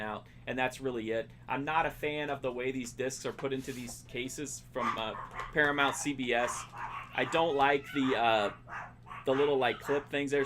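Dogs bark repeatedly in the background while someone talks steadily over them.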